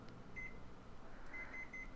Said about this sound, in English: Let me go ahead and set the timer for 2 hours.